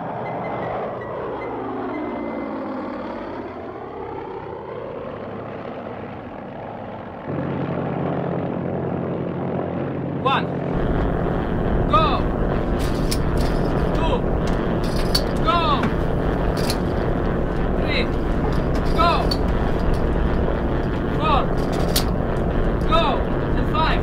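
Steady, loud droning of propeller aircraft engines, a wartime plane approaching a night supply-drop site, rising into a dense continuous roar with rattling, mechanical tones that persist throughout.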